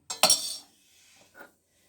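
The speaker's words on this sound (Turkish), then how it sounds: "Şöyle bir kaşık alıp fincanıma atıyorum." A spoon dropped into a coffee cup gives a bright clink and a short ringing, followed by a fainter second tap about a second later, close and isolated.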